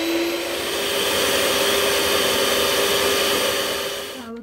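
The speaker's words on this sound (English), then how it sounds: "So we have put all our cream in the container. Now we're gonna whisk it." An electric whisk whips cream in a container with a loud, steady motorised whir that runs unbroken for several seconds and cuts off abruptly at the end, with no voices over it.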